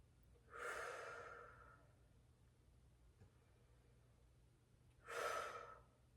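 Two slow, deep breaths during a yoga session, each a breathy rush lasting about a second, spaced several seconds apart with quiet in between.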